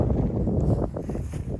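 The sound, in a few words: strong wind blowing into the microphone outdoors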